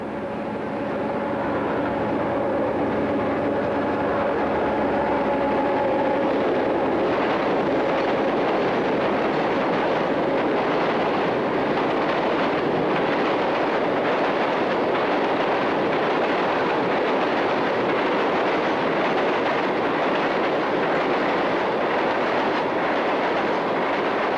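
Heavy southbound diesel locomotives, a GP40 and a GP38-2, roll past close by in Florida with a loud, sustained rumble and rhythmic clatter of wheels over rail joints, steady for the whole stretch.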